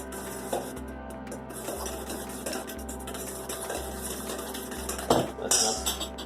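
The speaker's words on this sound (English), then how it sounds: "And then you start whisking up." A whisk clinks and scrapes rhythmically against a bowl while pumpkin pie filling is beaten, quiet and close, with light clatter and a faint hum in the background.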